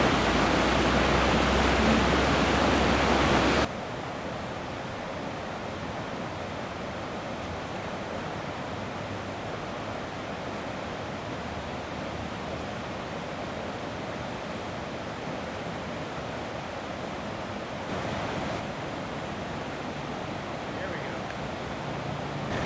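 The Provo River flows steadily with a broad, even rushing hiss that holds constant throughout. A louder burst at the start gives way to the continuous water noise.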